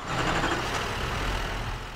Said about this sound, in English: I love when diesels are idling.